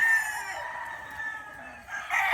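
A gray gamefowl rooster crows once, close by and loud, with a long drawn-out call filling the moment, with no talking.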